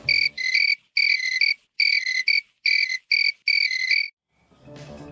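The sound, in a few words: crickets chirping, played as a sound effect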